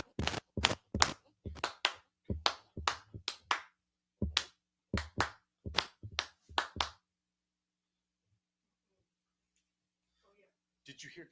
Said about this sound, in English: So I can hear clapping.